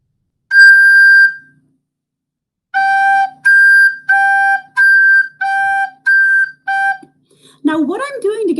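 A recorder sounds a high G with the thumb hole half uncovered, first as one sustained note, then as six shorter separated notes of the same pitch, each clear and steady. A voice starts talking at the end.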